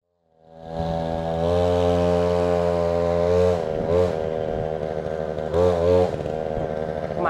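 A powerful motorcycle engine runs loud and close, holding a steady droning idle that swells with two sharp revs, steady and continuous with no talking.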